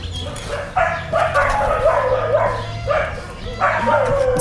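Several dogs bark, yip and whimper in bursts while scuffling in a playful fight near an outdoor Blackstone griddle, fairly close and loud with a low hum underneath.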